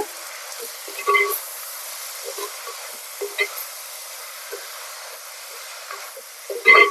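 Drumstick leaves (murungai keerai) sizzle and hiss steadily in hot oil, a soft, close frying sound with a few brief clatters of stirring, no talking over it.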